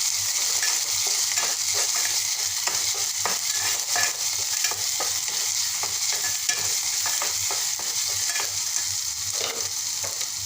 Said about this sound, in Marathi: खोबऱ्याची पेस्ट घालत आहे त्याला छान असं मस्त असं एक होईपर्यंत शिजवायचं तेल सुटेपर्यंत